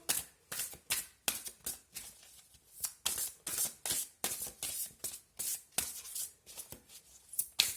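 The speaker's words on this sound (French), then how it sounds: "je vais vous tirer une carte des tarots des anges" Angel tarot cards being shuffled by hand, a quick series of close, crisp riffling bursts with short pauses between them, with no talking.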